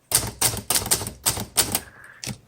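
Crisp, rapid keystrokes from a 1962 Hermes 3000 typewriter, six or seven sharp clacks in an uneven rhythm, with a brief bell-like ping near the end before one last strike, close and loud.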